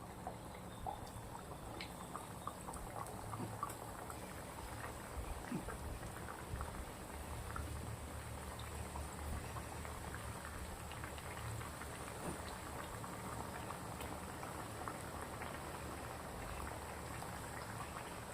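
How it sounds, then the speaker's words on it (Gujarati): Rice flour snack pieces sizzle in hot oil in a pan, a steady close crackle and bubbling that runs throughout with small pops scattered over it. "હવે આપણે તેલ ગરમ થઈ ગયું છે તો નાસ્તો એક એક કરી અને આવી રીતે લોયાના અંદર મૂકી દઈશું"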